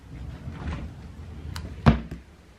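A wooden nursery dresser drawer slides open indoors, giving a short soft scrape that ends in a single sharp knock about two-thirds of the way through, with light handling sounds around it.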